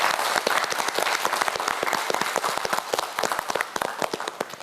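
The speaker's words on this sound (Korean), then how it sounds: "큰 박수 부탁드립니다" A studio audience at a televised science quiz show applauds steadily, many hands clapping in a dense, even burst that thins slightly toward the end.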